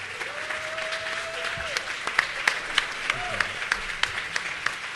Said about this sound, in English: Can I once again ask you to rise to your feet and give a warm applause to my wonderful panel here.